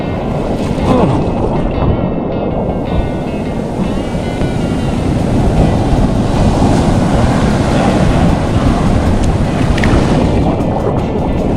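Ocean waves break over rocks at high tide on K'gari (Fraser Island), a loud, continuous surging roar with heavy wind buffeting the microphone.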